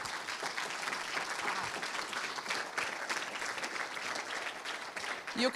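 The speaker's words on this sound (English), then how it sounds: "A round of applause for you." An audience applauds steadily at a technology transfer conference event, with dense, continuous clapping at a fairly close, even level throughout.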